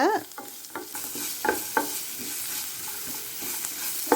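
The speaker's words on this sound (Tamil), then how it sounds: "இந்த இஞ்சி பூண்டோட பச்சை வாசனை போய் எண்ணெய் பிரிஞ்சு வர்ற வரைக்கும் நம்ம வதக்கிக்கலாங்க." Ginger garlic paste stirred and sautéed in hot oil for coriander rice: a steady sizzle with repeated scraping spoon strokes against the pan, close and fairly quiet, with no voices.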